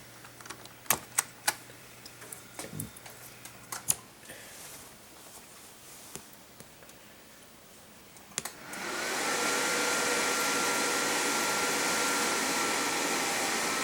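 Old eMachines computer DVD-ROM drive with scattered clicks and clunks at first, then spinning up into a loud, steady whine and rush that holds to the end; no talk.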